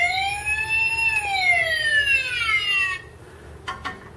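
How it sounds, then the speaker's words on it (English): An electronic toy police siren from a Transformers Sentinel Prime figure wails with rising and falling tones for about three seconds, then cuts off, leaving faint clicks and light background noise. "Now the sirens, lights and sounds are activated with this gray button right here."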